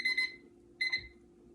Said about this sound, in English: I am down to the last few seconds on the timer